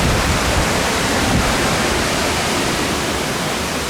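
Water rushing inside an old water mill at Dogpatch, a loud, constant broadband roar like a waterfall, steady and unbroken with no voices.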